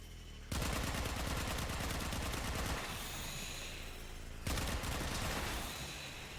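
Turrets firing in the sci-fi shooter Warframe: dense rapid bursts of automatic gunfire rattling loudly and nonstop, with a brief pause before another sustained volley.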